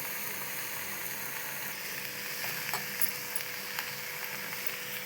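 Cluster beans being stirred in a hot frying pan for a palya, a steady low sizzle with occasional scraping clicks of the spoon against the pan, close and without talk.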